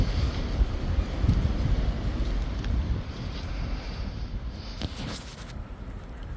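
Steady gusty wind roaring through pine trees in a snowy forest, a broad constant rush with slight swells and no voices.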